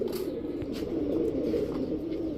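Giribaz high-flyer pigeons coo in a low, continuous throaty murmur close by, steady throughout with faint chirps and rustles above it.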